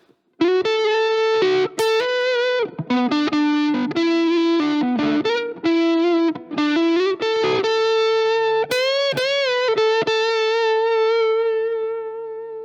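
A distorted electric guitar plays a lead solo, with bends, sustained notes and quick runs, loud and close, with no voices.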